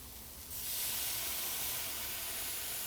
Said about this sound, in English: after that we're gonna deglaze it with the red wine